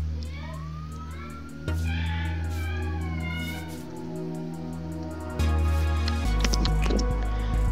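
A cat meowing in the Roblox game ERLC during a fire department rescue: several rising and falling meows, fairly clear, over a steady engine-like hum with a siren-ish tone at the end.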